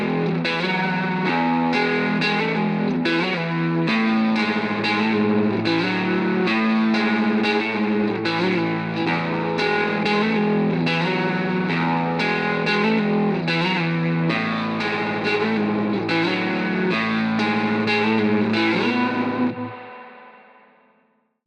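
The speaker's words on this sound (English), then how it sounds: "This is the neck gold foil, and this is the foundation for some of my favorite tones that come from this guitar." Knaggs Choptank electric guitar played through its neck gold foil pickup, a thick, sustained, chord-rich tone coloured by distortion, chorus and echo effects, continuous and loud for about nineteen seconds before the final notes ring out and fade.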